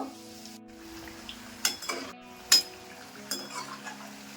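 Nachos golden twister snacks frying in oil over a medium flame: a soft steady sizzle with a few sharp clinks of a utensil against the pan, quiet and close, with no talk.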